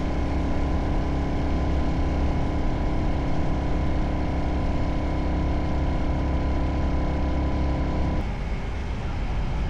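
A Royal Enfield Hunter 350 motorcycle engine rumbles steadily at a constant idle-like pace, close and loud, then its tone shifts and drops slightly near the end.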